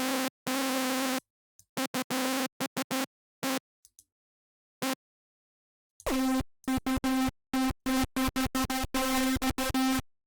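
Bright hardstyle synth lead with its highs boosted by EQ, playing a choppy melody of short stabs and sustained notes, with a long gap of near silence in the middle before a denser run of rapid repeated notes.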